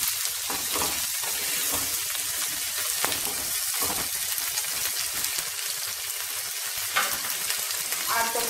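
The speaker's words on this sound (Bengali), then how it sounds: "টমেটো কুচিগুলো আমি দিয়ে দিচ্ছি।" Chopped tomatoes fry in a hot pan for butter chicken, giving a steady crackling sizzle with occasional stirring scrapes, moderately quiet and continuous, with no talk over it.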